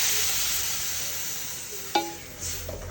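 Water splashes into a pan of hot frying chili, coriander and turmeric masala, causing a sharp hiss and crackle over a steady sizzle that continues underneath.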